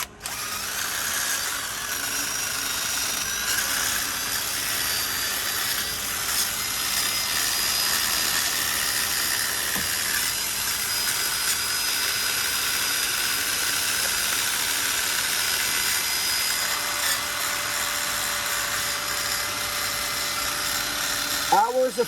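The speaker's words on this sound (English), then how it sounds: "I have this old drill, the stab-in type" An old DeWalt stab-in drill running on a battery adapter, giving a continuous high-pitched whir that barely changes across the whole stretch, close to the microphone, with a faint tonal shift near the end and a click as it stops.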